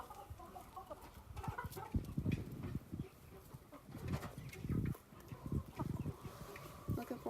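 Several chickens cluck and call close by in a snowy yard, irregular bursts of clucking rising and falling over a steady outdoor background, with no voices.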